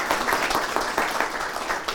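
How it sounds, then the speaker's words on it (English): A crowd at a county town hall meeting applauds, dense, steady clapping filling the room for the whole stretch without letup. "So another round of applause for them"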